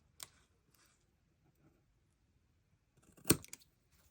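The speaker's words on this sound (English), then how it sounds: "I'm just going to cut that little bit at the top." Scissors cut paper in two short, sharp snips, one near the start and a louder one near the end, with quiet gaps between.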